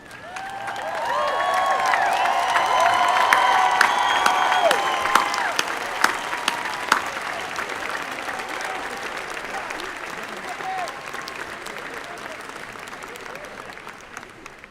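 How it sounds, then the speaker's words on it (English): Large audience at a university graduation ceremony applauding and cheering, a broad sustained roar of clapping with whoops and shouts early on, gradually settling into steadier applause, heard from a distance in a big outdoor space. "give a round of applause to those who helped you on this journey"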